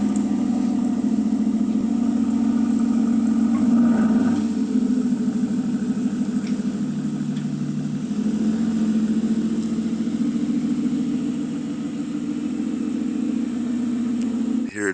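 A car engine running at idle, a steady close low hum with a slight rhythmic throb and a brief dip near the middle, heard alone without talking.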